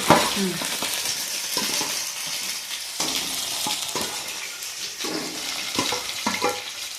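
Katla fish pieces drop into hot oil in a home kitchen, setting off a steady crackling sizzle with a few louder spits and bursts, close and fairly loud throughout.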